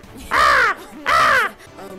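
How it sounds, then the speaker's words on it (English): A bird-call skill in the VR game Zenith: two loud, harsh crow-like caws in quick succession, close and clear, then a fainter third trailing call. "So apparently, I developed a new skill, this being the bird call."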